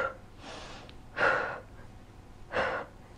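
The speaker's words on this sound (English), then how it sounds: "Keep breathing and use your breath to control the movement." Breath exhaled during a Pilates ab workout: three distinct, airy breaths, each a soft rushing puff, close to the microphone against a quiet background.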